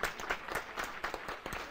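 Audience applause for quiz teams at a grand finale quiz event, a steady patter of many hands clapping close by, swelling in irregular bursts for a couple of seconds with no voices over it.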